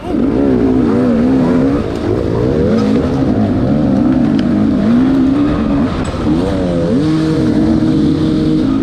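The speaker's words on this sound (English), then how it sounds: "People are revving their bikes." Several dirt bike engines rev and whine loudly nearby at a race, pitches rising and falling in overlapping surges.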